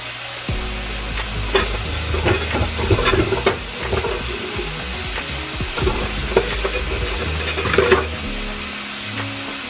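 Chicken pieces browning in a hot pan for a stew, a steady loud sizzle with occasional stirring scrapes and spatters throughout, no talking.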